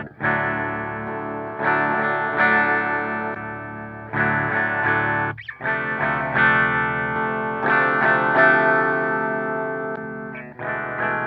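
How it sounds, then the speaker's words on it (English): Chords ring out from an LTD Phoenix-1000 Deluxe electric guitar on a clean amp channel through the bridge humbucker, with chorus and echo adding shimmer. Strums sustain, with one brief pause midway and no voices. "Here's full-on humbucker in the bridge."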